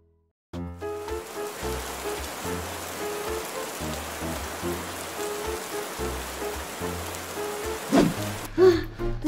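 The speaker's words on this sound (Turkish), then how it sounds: "Dışarıda ne kadar yağmur vardı." Rain falling outside, a steady broadband hiss of drops pattering on surfaces that runs through the whole stretch after a quiet start, with a low tonal hum and a couple of brief clatters near the end.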